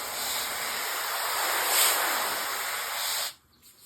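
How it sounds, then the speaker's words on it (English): A garden hose spraying water in a greenhouse gives a steady, close hiss that swells slightly midway, then cuts off abruptly near the end. "I've got the hose going in the greenhouse now."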